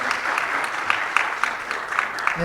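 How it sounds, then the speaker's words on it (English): Steady audience applause fills a hall during a data science initiative announcement with Mastercard, a continuous, fairly loud wash of clapping from a crowd, with a voice starting right at the end. "One more round of applause from Mastercard and Ms."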